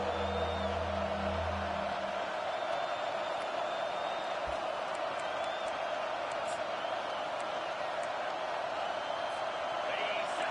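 A packed football stadium crowd roars on third down against Nebraska, a continuous loud wash of cheering with occasional whistles, while a commentator's voice is heard briefly at the start.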